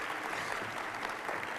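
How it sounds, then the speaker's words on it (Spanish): Steady, dense applause from an audience at a Mexican gastronomy education forum, welcoming a speaker, a continuous wash of clapping at moderate volume throughout. "un aplauso para él, por favor"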